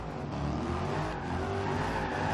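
An AMG E63 Biturbo drifts in the video game Forza Horizon 2, its engine droning at high revs with tires squealing in a continuous, loud, even wail and no voices over it.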